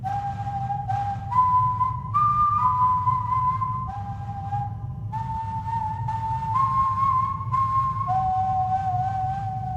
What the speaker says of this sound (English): Oh, just take a second to hear that whistle.